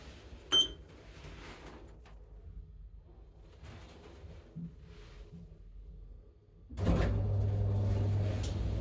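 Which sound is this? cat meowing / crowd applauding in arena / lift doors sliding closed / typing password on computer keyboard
lift doors sliding closed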